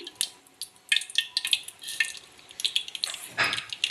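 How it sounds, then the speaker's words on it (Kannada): Mustard seeds splutter in a couple of spoons of hot oil in a pan for tomato sambar, giving rapid, irregular close-up pops and crackles over a soft sizzle. "ಇವಾಗ ನೋಡಿ ಸ್ವಲ್ಪ ಸಾಸಿವೆ ಹಾಕೋತಾ ಇದ್ದೀನಿ"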